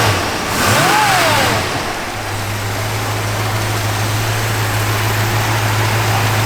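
Engine of a 1967 Ford Mustang GTA running, loud and close, with a brief rev in the first seconds settling into a steady low idle hum.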